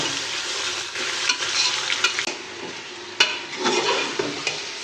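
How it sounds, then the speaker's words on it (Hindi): Steady sizzling of chicken frying in desi ghee with onions and whole spices, with occasional stirring scrapes and clinks over the continuous crackle, close and fairly loud. "साबुत गरम मसाले, प्याज और देसी घी के साथ चिकन को भूनते हुए 10 मिनट हो गए हैं।"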